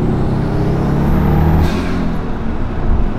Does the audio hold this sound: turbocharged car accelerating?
yes